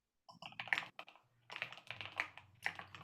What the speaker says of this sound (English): Sorry if you guys can hear my super loud keyboard.